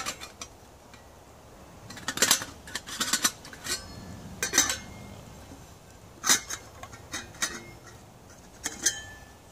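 Ozark Trail stainless steel pot and lid being handled on a wobbly stump, with a scattered series of sharp metallic clinks and knocks of varying strength, close up, over faint background hiss.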